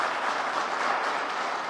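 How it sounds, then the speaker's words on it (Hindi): Audience applause at a political rally, a steady, dense clatter of many hands clapping at once, evenly sustained and fairly loud, with no talking over it. "ताली आप बजाना"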